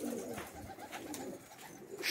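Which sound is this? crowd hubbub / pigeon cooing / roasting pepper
pigeon cooing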